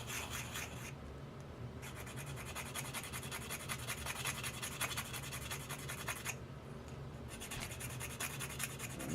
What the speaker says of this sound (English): I'm just going to kind of take a sanding block